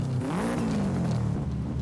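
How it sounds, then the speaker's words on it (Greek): In Forza Horizon 5, a Subaru Impreza's exhaust revs hard, the engine note climbing then sliding back down in a loud, close, unbroken roar with no talking. "Ακούσε η σκάστρα τώρα"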